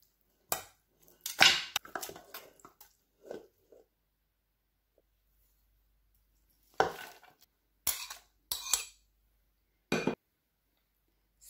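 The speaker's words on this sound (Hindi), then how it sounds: "अब मैंने प्रेशर कुकर में सारी चीज़ें डाल देनी है।" Meat, water, fresh coriander and cooking oil are tipped into a pressure cooker for salted mutton curry, giving scattered clinks and clatters of metal and utensils in short separated bursts, with quiet pauses between them.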